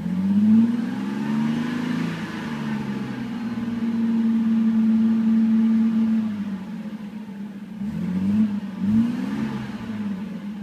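A 1990 Mercedes 300SE engine runs after a cold start, a close, steady idle hum with a fast-idle stretch that settles, then a couple of brief rev blips near the end.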